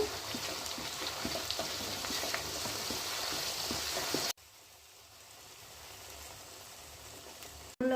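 A coconut, onion and cashew paste fries in a hot pan with a steady, dense sizzle that cuts off abruptly partway through, then returns as a quieter, softer frying hiss up close.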